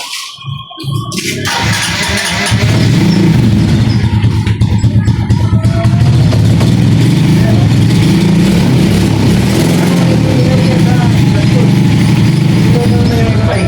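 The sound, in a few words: motorcycle engine running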